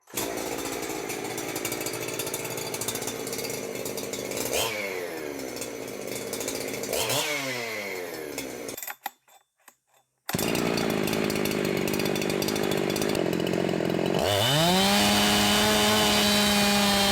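A Husqvarna 372XP chainsaw runs loud and close, bogging and revving as it cuts wood. It cuts out briefly, then restarts and screams at high revs.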